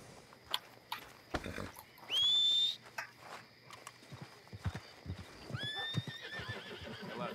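A filly whinnies in Red Dead Redemption 2, one bright rising neigh and a second fainter call later, with scattered hoof clops and game sounds around it.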